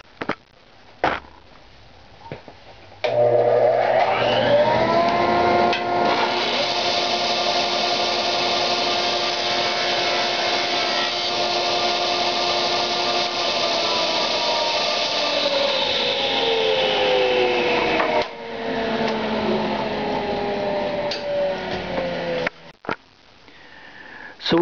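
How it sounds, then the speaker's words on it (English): A table saw cuts dentil molding, its blade whining steadily for about twenty seconds after a short start-up, with loud rasping wood contact that tapers off near the end. "So we got the table saw set up to do that."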